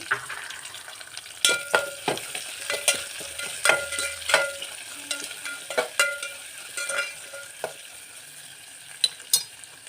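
Onions frying with chilli and curry leaves in a pan for vermicelli upma, with repeated scraping and clinking strokes of a metal spoon over a soft sizzle, close and steady with no talking.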